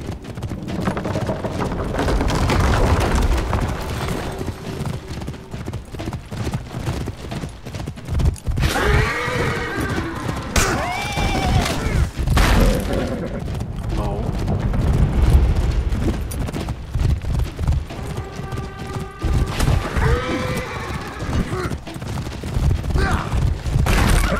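Galloping hoofbeats and repeated horse whinnies during a mounted chase in the game For Honor, steady clip-clop throughout with several loud neighs breaking through amid battle noise and rumbling.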